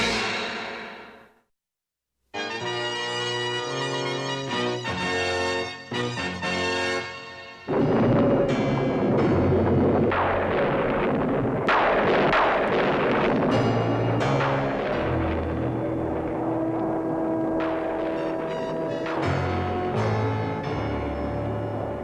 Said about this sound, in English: Sounds like a storm's coming.